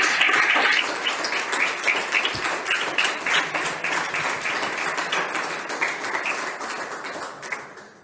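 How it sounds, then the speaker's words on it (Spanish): A room full of people applauds steadily, a dense wash of clapping that gradually thins out toward the end. "Bueno, pero ya el aplauso ya está hecho."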